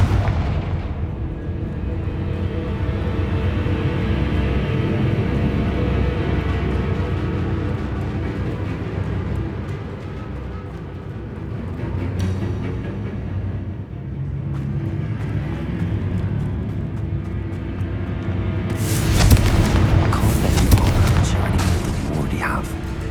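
Confringo fire spell blasts in the Hogwarts Legacy video game, heard as deep rumbling booms and rolling explosive roars. A loud bright burst comes near the end, and someone talks over them.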